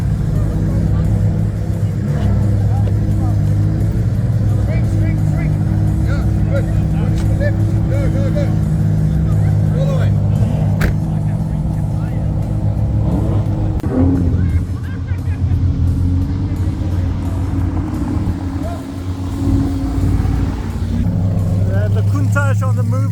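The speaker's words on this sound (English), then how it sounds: "The Countach on the move as well." A Lamborghini Countach supercar on the move, a loud steady low engine drone with rumbling exhaust throughout, close, with voices talking over it.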